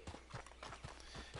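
Horse hoofbeats in a video game make a quick, rhythmic clip-clop at a steady trotting pace, faint and close, with no talk over them.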